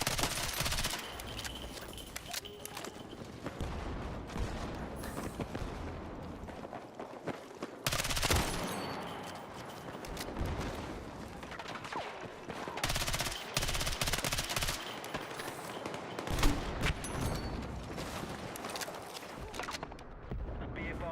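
Sustained automatic gunfire from Battlefield 6 in Obliteration mode, long rattling bursts with brief gaps, fairly quiet overall and mixed with game noise and faint footsteps.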